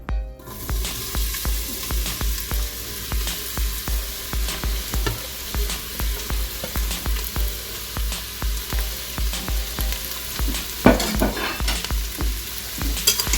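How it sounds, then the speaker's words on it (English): Vegetables sautéing in a little oil in a large pot on a stovetop, a steady bright sizzle with rhythmic scraping and stirring strokes throughout, close and moderately loud, with a brief louder clatter near the end. "let's go over to the stove and saute them. In the first large pot, I'm putting our veggies. I have a little oil already in here."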